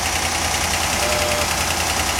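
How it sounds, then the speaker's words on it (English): A Ford Thunderbird engine idles with a steady, even running drone and a faint ticking knock, heard alone at close range and fairly loud throughout. "The engine's got a tiny knock in it."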